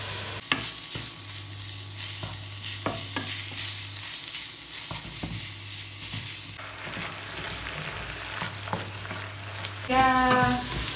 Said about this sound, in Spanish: من بعد ما تقلات البصله والقرعه والخيزو